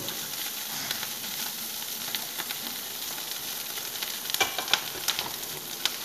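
Steady sizzling of small shrimp frying in a hot pan, a continuous bright hiss with occasional sharper pops toward the end.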